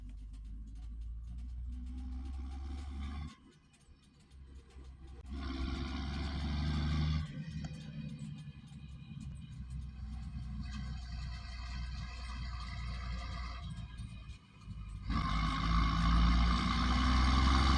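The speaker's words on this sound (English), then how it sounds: "the background, you can hear an L320." A New Holland L320 skid loader runs steadily nearby with a loud, continuous engine roar and rumble. The noise dips briefly twice before swelling again.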